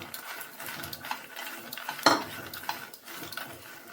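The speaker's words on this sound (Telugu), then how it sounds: "ఇవన్నీ కూడా ఈ మసాలాలోనే బాగా ఫ్రై చేసుకోవాలండి, క్రిస్పీగా అయ్యేటట్టు." Phool makhana (fox nuts) frying in masala in a pan, a soft sizzle under scraping stirs and light clinks of a utensil against metal, with one sharper clatter midway.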